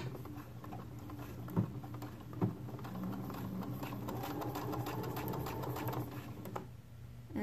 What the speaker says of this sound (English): I'm going to sew them together with a quarter inch seam allowance. And I just use a straight stitch here.